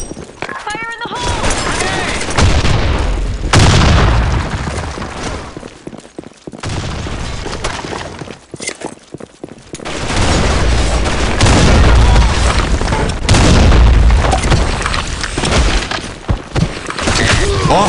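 Grenade explosions in a multiplayer shooter game, with loud booms and crashes that recur across the clip. Game announcer voices and music play over them.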